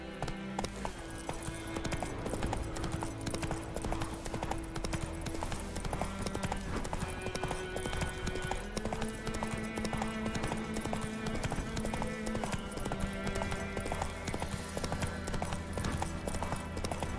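Horse hooves clip-clop steadily through Roach's gallop in The Witcher 3, a continuous rhythmic beat heard alone under a layer of game music, with no talk.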